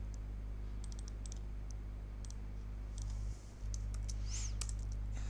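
Someone types a docker stop command on a computer keyboard, giving a quiet scatter of separate key clicks over a steady low hum from the room or machine.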